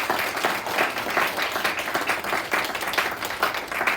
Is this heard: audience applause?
yes